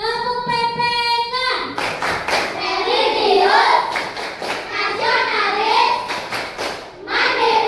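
Children in an Indonesian classroom perform a rhythmic PPK clapping chant, steady claps and taps mixed with loud group chanting voices; the opening has a sung tone before the clapping and speech take over.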